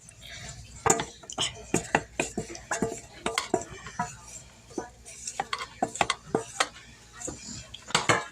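Beans and corn for chili mixed in a pot, heard as a quick, irregular run of spoon scrapes and clinks against the pot, close and steady, with bits of talk in between.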